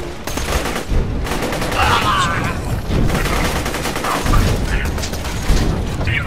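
Rapid, loud gunfire from weapons in the Borderlands 2 shooter, dense bursts of automatic shots and mechanical clatter running throughout, with a voice talking over parts of it.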